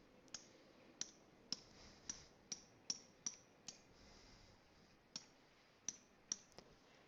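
Sharp plastic key clicks tapped one at a time in an irregular rhythm, close and distinct over a quiet background, with a short pause midway.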